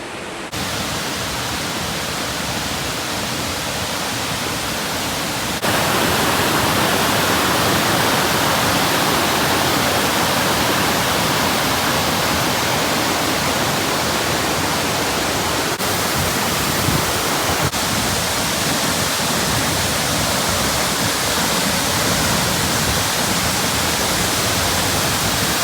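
Dambri waterfall near Bao Loc, Vietnam, a dense steady roar of falling water, loud and close, unbroken throughout with no voices.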